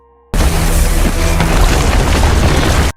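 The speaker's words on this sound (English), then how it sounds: "Shortly, the airstrike finally arrives and neutralizes the RPGs." A film airstrike explodes in a loud, sustained rumbling blast that starts abruptly, fills about two and a half seconds at full force, then cuts off sharply, with no speech over it.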